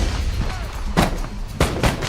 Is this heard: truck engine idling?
no